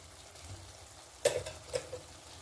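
Prawns and cashews frying in ghee in a pan, with a low steady sizzle and a few sharp scraping stirs partway through, fairly quiet and without talk.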